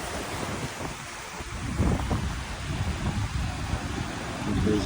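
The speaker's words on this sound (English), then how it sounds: "Some crazy waves out there." Rough surf at Tofino beach on Vancouver Island, British Columbia, in wet weather: a continuous low roar of waves breaking and washing in, steady and fairly loud, with wind buffeting the microphone and no voices.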